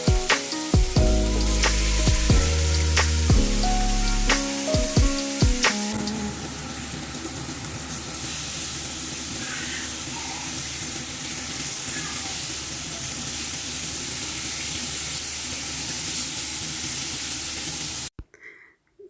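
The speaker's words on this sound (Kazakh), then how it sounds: "Енді осындай гриль сковородкіде екі жағын қуырып" Steak laid in a grill pan sizzles with a steady hiss; the opening seconds carry louder clattering and knocks before settling into an even, continuous fry that cuts off at the end.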